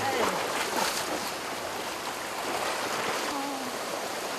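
Sea waves wash over the rocks where wild seaweed is harvested on an island shore, a loud continuous rushing and hissing close by with no clear breaks.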